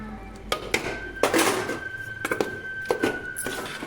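A spoon stirs cardamom powder into a metal pot while cooking karigadabu, giving a handful of sharp, close clinks and scrapes against the pot in an uneven rhythm, with no voices.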